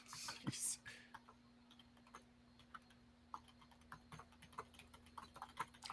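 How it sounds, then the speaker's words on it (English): Faint, irregular clicking of keys on a computer keyboard as someone types, soft, close taps scattered through a quiet room over a low steady hum. "Oh, Nick is typing the joke."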